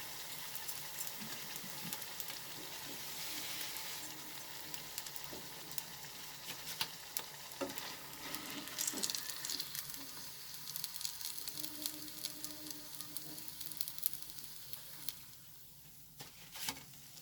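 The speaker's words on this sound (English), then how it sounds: "We fry the cutlet till it turns golden from both the sides." Chicken potato cutlets fry in a pan of oil, giving a quiet, continuous sizzle with fine crackling pops and occasional brief spatters.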